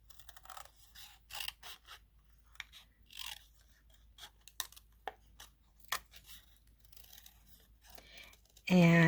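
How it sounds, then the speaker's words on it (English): Scissors make a series of crisp, close snips through cardstock during a Stampin' Up! papercraft session, irregular cuts separated by short quiet gaps, with a voice starting briefly at the end. "I'm going to be just moving the cardstock and not my scissors."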